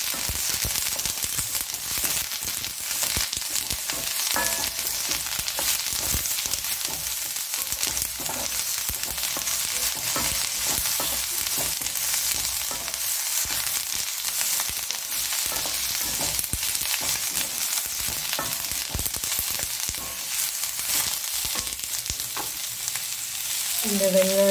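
Onion, garlic, tomato, curry leaves and dried red chilies sautéing in hot oil for a peanut chutney, a dense continuous crackling sizzle close by with faint stirring, no talk.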